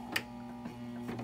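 A sewing machine stitches in reverse to lock the seam on fabric for an envelope-style cushion cover, giving a low, steady mechanical hum with a few brief ticks, heard close and fairly quiet.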